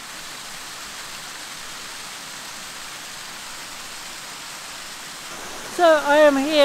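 A mountain waterfall swollen by days of rain roars as a steady, dense wash of water noise close by, with a brief tonal burst of another sound near the end.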